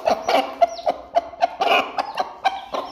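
A hen in a village yard clucks in a quick, fairly regular series of short, sharp notes, close by and moderately loud, with faint background rustle.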